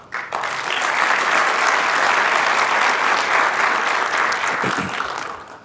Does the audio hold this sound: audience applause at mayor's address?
yes